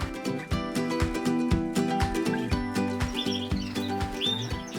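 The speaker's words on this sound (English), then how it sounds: "They're incredibly active at the moment, they're cheeping to each other." British birds in an aviary give busy, overlapping cheeps and chirps, close and continuous, with some clearer high calls toward the end. Other bird sounds blend in around them.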